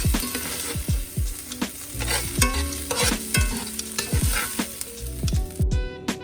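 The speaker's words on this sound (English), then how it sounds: "just give them a quick little stir fry that took about, what, 30 seconds or so?" Chicken stir-fried in a cast iron skillet with canola oil, sizzling steadily with repeated scraping and clattering stirs of the utensil against the pan, close and fairly loud, no talking.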